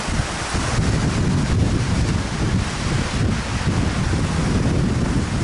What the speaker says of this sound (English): it's so darn windy you might not be able to hear me today